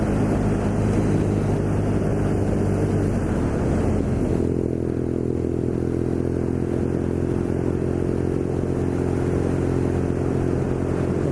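A BMW R nineT Scrambler motorcycle rolls on the throttle in fifth gear, its engine a loud, continuous drone that shifts pitch as it pulls, with heavy wind rush throughout.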